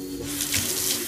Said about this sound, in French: On va passer déjà au rinçage et on commence par rincer la tête.